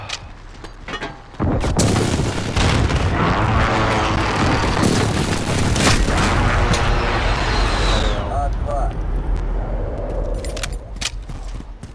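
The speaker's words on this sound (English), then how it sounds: "Enemy airstrike incoming." Airstrike explosions in Call of Duty: Modern Warfare multiplayer, a sudden loud onset of booming blasts and gunfire that rumbles on for several seconds before thinning out, with shouted voices mixed in.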